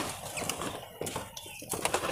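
Pigeons at a breeder's loft, including a male bird, shuffle and flutter their wings nearby, giving soft coos and scattered flapping bursts amid close handling noise.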